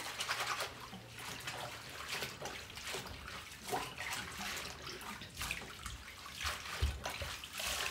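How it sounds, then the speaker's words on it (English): Collard greens washed and scrubbed by hand in a basin of salted water: continuous sloshing and splashing with rubbing swishes, close and moderately loud, without speech. "let me give these a little scrubbing here in my salted water"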